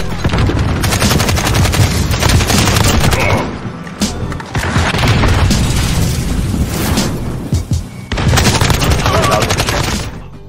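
AK-74U rifle fire in the video game Call of Duty Modern Warfare: loud, dense bursts of rapid automatic shots over several seconds, broken by brief pauses and booming impacts.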